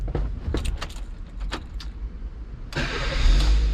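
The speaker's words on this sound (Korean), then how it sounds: "시동을 켜 볼게요." Keys jingle and rattle inside a Chevrolet Spark, then its small engine cranks and catches at the end, settling into a steady idle, fairly close.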